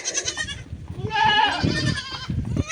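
Several goats and young goat kids bleating close by, a series of overlapping wavering cries with brief gaps between them and some farmyard shuffling underneath.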